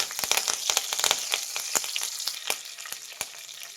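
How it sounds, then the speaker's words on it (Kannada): Curry leaves dropped into hot oil for pepper chicken dry, a close, crackling sizzle with sharp pops and spits that come quickly at first and then gradually thin out, with no voices. "ಎಣ್ಣೆ ಬಿಸಿ ಆಗಿದೆ. ಕರಿಬೇವು ಹಾಕ್ತಾ ಇದ್ದೀನಿ."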